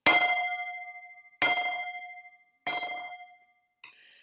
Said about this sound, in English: there'll be a gong that I will sound. It'll sound like this.